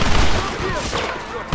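Dense, loud rapid gunfire from a Red Dead Redemption shootout crackles in overlapping bursts, with voices shouting faintly beneath the fusillade.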